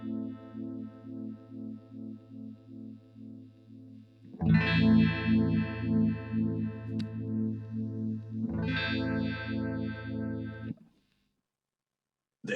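Guitar-like tones pass through a simple phaser effect, with the swirling, sweeping comb-filter motion heard across sustained, moderately loud notes that stop abruptly near the end.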